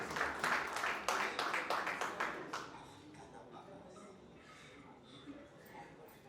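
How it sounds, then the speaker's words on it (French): Audience clapping at an event in the Dôme de Paris, a burst of brisk, fairly close applause that fades after about two seconds into quiet room murmur with scattered faint voices. "Encore une fois, applaudissez pour Vincent Chilouzi."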